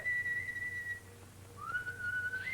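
A person whistles a sustained tune in a quiet indoor scene from a 1930 film, two drawn-out notes separated by a short pause, the second rising slightly, heard alone over a low hum.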